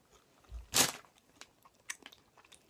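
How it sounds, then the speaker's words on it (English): Toxic Waste sour candy crunches loudly between the teeth in one sharp bite, followed by quieter, scattered chewing clicks close to the mouth. "I'm chewing it."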